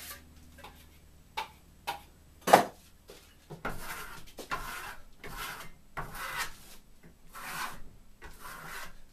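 A steel trowel burnishes Venetian plaster, a Marmorino lime finish, in a series of deliberate raspy scraping strokes, close and fairly quiet, with a few sharp taps between passes.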